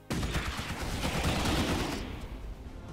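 Sustained gunfire rattles in a Starship Troopers Terran Command battle, a dense, loud, continuous fusillade of overlapping shots that thins slightly toward the end.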